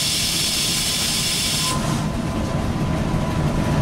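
Cab view aboard a Z 5300 suburban electric train running at about 120 km/h between Paris and Rambouillet: steady loud rolling rumble and wheel-rail roar with a broad hiss that drops away after a couple of seconds, continuing throughout.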